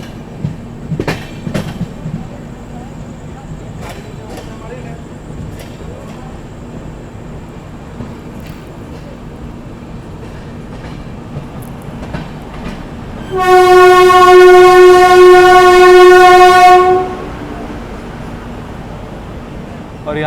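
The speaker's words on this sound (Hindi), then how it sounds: "दोस्तों अपनी ट्रेन अराइव कर रही है दुर्गापुर रेलवे स्टेशन पे।" The Vibhuti Express (13047, Howrah–Prayagraj Rambagh) arrives at Durgapur railway station. Its loud, sustained horn sounds for several seconds after a stretch of quieter rail clatter and platform ambience.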